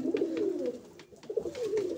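Domestic pigeons cooing in a home loft, soft repeated throaty coos in a steady rolling rhythm, close by with no talking.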